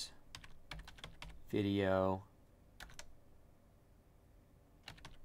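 Short bursts of keystrokes on a computer keyboard as a file name is typed, quick close clicks before and after a spoken word in the middle.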